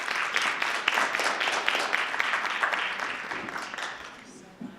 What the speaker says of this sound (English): can we give another big thank you to these 4 amazing teachers